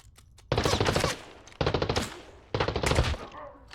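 Automatic gunfire in the shooter game Arena Breakout Infinite, loud and close, in three rapid bursts about a second long each, separated by short pauses.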